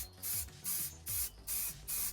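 Spray paint hisses in five even bursts onto a replica Stormtrooper helmet, each about a third of a second with short pauses between, close and steady with no voices.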